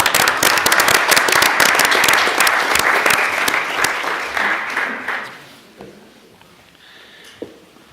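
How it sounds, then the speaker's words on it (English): A loud burst of applause at a city council meeting, dense and steady for about five seconds, then fading to a few scattered claps. "Another round of applause, please."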